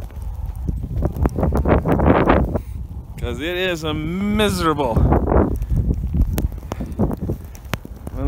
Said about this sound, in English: the horses aren't enjoying because they walk on frozen ground, which they don't like